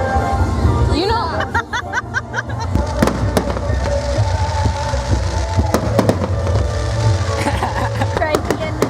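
Fourth of July fireworks pop and crackle in sharp bursts, with several loud bangs spaced through the scene while a crowd chatters and laughs close by.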